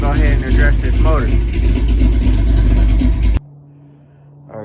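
Chevrolet El Camino engine idling loud and close while warming up, a steady rumble with a couple of brief revs, then cutting out abruptly to near silence before a faint sound returns.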